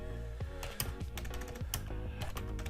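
Brief bursts of keystrokes on a computer keyboard type out a folder name, quick irregular clicks close up with short pauses between clusters, over a faint background hum.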